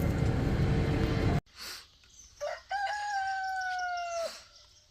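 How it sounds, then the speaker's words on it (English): A rooster crows on a foggy, wet early morning on a farm, one long clear crow rising and holding after a loud noise cuts off and a few brief clucks, fairly close with nothing else going on. "Good morning, Mr. Rooster."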